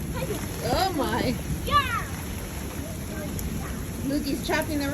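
Rain falls steadily while kids play in it, a soft constant patter beneath high-pitched children's voices and squeals, with an adult speaking now and then.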